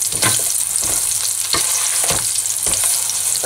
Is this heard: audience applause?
no